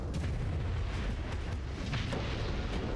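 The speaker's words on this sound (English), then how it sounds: "so it's 2 black hole launchers" Weapons fire from twin black hole launchers in the space combat game Starsector, a dense, continuous roar of booming blasts with repeated sharp bursts layered over a heavy low rumble throughout.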